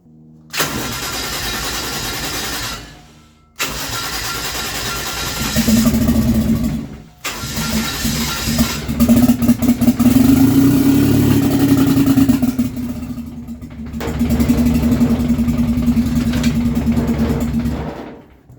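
A 1JZ engine in a Nova cranks on starting fluid, then catches and fires into a loud rough run, cuts out, and fires again with rising revs, close and dominating, with no talking.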